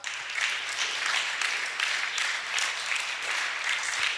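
Sustained audience applause fills a church service gathering, a dense, steady wash of clapping from many hands at close-to-moderate distance with no voices over it.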